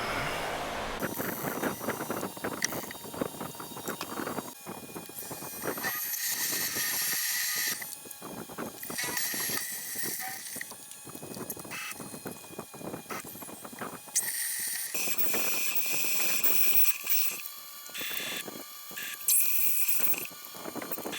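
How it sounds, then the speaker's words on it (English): Metal rod being cut off for a belt grinder hinge bracket, a steady loud grinding or cutting roar with brief pauses and shifts in pitch, close by, with no talking. "Now I'll cut that off there."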